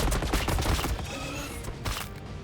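Tau commander firing on Termagants in Warhammer 40k Battlesector, a dense rattle of rapid shots packed into the first second, then a steadier sustained volley with a couple of sharper bursts near the end.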